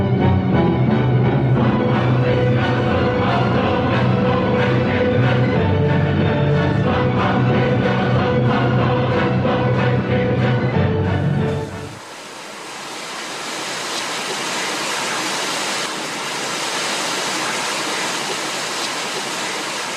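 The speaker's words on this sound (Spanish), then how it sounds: "Surge el agua a raudales en los contactos entre zonas porosas y masiva." Groundwater gushes in torrents from porous volcanic rock inside an underground water gallery on El Hierro, a loud, steady roar that drops partway through to a broader, airier hiss.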